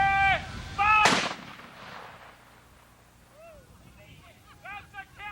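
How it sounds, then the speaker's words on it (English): A single loud cannon shot booms at a 1992 Civil War battle reenactment near Perryville, Kentucky, then fades into a rumbling echo while voices shout before and after. "That's the cannon, boys!"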